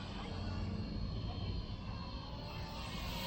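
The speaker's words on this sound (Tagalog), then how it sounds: "Yan, yung tunog talaga ng motor yung mararamdaman mo." A hobby-grade XK K170 Black Hawk UH-60L RC helicopter hovers in stable height-hold flight, its electric motor and rotors giving a continuous faint whirring drone that holds steady throughout.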